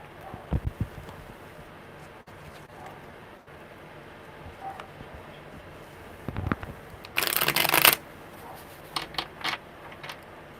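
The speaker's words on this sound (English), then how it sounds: "Okay, one more good shuffle." A brief burst of riffling tarot card shuffling rises near the end, with a few soft taps and rustles around it in a quiet room.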